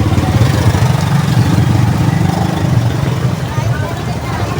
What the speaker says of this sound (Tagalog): Ayan, mga tricycle natin o.